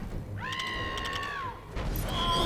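A single drawn-out, clear meow from a kitten in the video game LEGO Harry Potter Years 5-7, rising then falling over about a second, close and distinct above low game ambience, followed by a brief thud.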